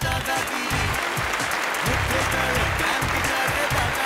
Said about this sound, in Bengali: এটা জোরে হাততালি ওদের জন্য।